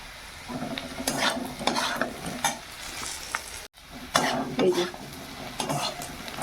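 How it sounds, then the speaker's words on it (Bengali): Potatoes fried until reddish sizzle in a pan with cumin and turmeric while a utensil scrapes and stirs through them in repeated strokes, close and busy with no talking. "এই যে আলুগুলো লাল লাল করে ভেজে নেওয়া হয়েছে তারপরে এখানে একটুখানি জিরে দিলাম"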